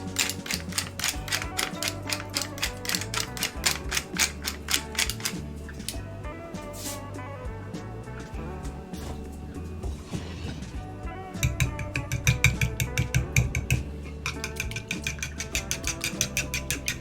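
Eggs whisked in a bowl with salt and pepper, just combined rather than beaten foamy: steady rapid clicking strokes with brief pauses, close and fairly loud, with no talk.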